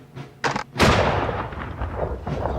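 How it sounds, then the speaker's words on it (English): A musket shot rings out as the opening of the American Revolution, a sharp blast followed by a louder booming report that rolls away into a long rumbling tail. "somehow someone fired a shot and started a war."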